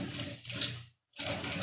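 A sewing machine stitches a seam on a fabric bread holder in two close, fast mechanical bursts of whirring needle chatter, with a clean pause of silence between them.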